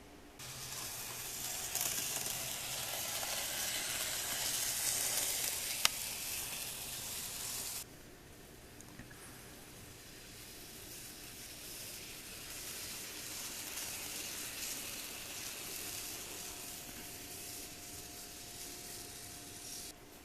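Graham Farish A2 Sun Chariot model locomotive with its motor running, a steady hissing, grinding whir that is louder for the first several seconds, then drops to a quieter continuous hum.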